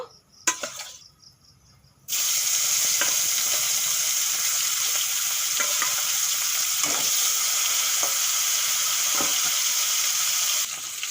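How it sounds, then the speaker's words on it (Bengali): A katla fish head rubbed with turmeric and salt drops into hot mustard oil in a wok, a sudden loud sizzle after a quiet start that holds as a dense, even hiss with occasional pops. "তেল গরম হয়ে গেছে হলুদ লবণ মাখানো মাছের মাথা ভেজে নেব"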